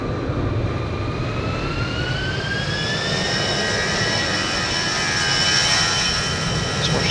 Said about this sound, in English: This airplane take off, shall we?